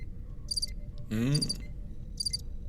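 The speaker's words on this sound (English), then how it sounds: "Crickets." Crickets chirp in short, evenly spaced bursts at a steady rhythm against a quiet night background, while a voice speaks briefly in the middle.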